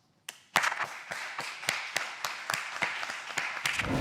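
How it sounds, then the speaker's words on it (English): A few people clapping to welcome a startup founder to the stage at a pitch event, with sparse, uneven individual claps that sound close and moderately loud rather than full crowd applause. "Round of applause."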